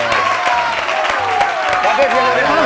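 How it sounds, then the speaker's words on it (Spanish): An audience at a live magic show claps steadily for a couple of seconds, a close, full burst of applause with a voice talking loudly over it. "un aplauso más fuerte para Me Darío"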